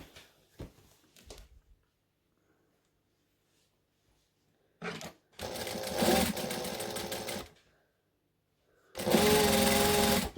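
A sewing machine stitches the last corner of a table runner in two bursts, a several-second whirring run followed by a pause and another loud burst, close with brief handling clicks before.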